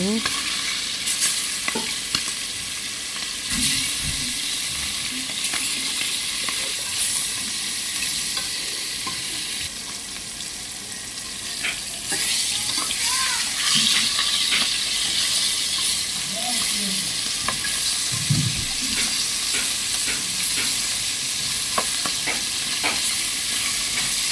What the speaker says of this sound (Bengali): পাতিলে দিয়ে দিলাম তেলটা গরম হয়েছে, দিয়ে দিলাম মাছ দিয়ে অল্প একটু ভেজে নেব